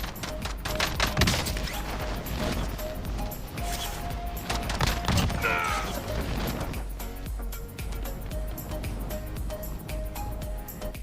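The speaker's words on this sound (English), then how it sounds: "they unholster their gun and can pop off several rounds and redeploy the parachute afterward" Gunfire crackles in bursts as a player shoots while parachuting in Call of Duty Warzone, dense game sounds and rattling shots at moderate level with a voice faintly over them.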